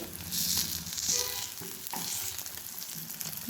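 Paneer pieces frying in hot oil in a pan, a loud, close, continuous sizzle with bright crackling as the pieces are turned, no voices.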